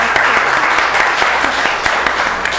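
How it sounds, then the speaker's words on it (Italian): Applause at a book presentation event, a steady wash of clapping at moderate loudness throughout, with no talk over it. "Un applauso solo mio."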